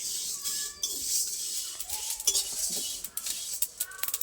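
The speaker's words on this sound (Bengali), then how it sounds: "ভালো করে হালকা একটু নেড়ে নেবো, বেশি ভাজবো না।" Spices and mustard seeds lightly stirred and dry-fried in a karahi for homemade mango pickle oil, giving steady scraping and clinking of a utensil against the pan, with soft crackle beneath.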